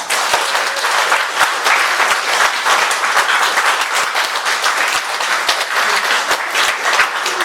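Dense, loud applause from the audience at a Catholic parish council general meeting, many hands clapping close and continuously with sharp individual claps standing out, no talk over it.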